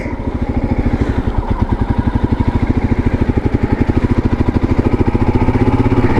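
Royal Enfield Himalayan adventure motorcycle on the move, a loud, close single-cylinder thump pulsing in a fast, even rhythm, with engine note holding steady and slightly rising toward the end.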